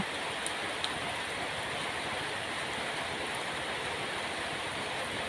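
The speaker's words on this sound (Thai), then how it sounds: "ฝนมาตกในฤดูหนาว" Steady rain falls through a winter day in a rural Thai farming area, a dense, even hiss of drops that stays constant throughout, with no voices.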